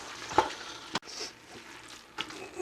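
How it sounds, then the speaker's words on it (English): Chili seasoning mixture being stirred into browning ground meat in a pan, a soft sizzle with a few scraping strokes of the spoon, close and moderately quiet, no talking. "And then I'm going to stir that up."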